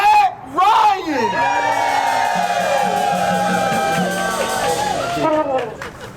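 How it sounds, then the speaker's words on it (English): A cold-morning outdoor rally crowd cheers and yells loudly at a democracy event, with muffled gloved clapping buried beneath the voices and cheering swelling and fading for several seconds. "It's a lot quieter clapping when you have gloves on."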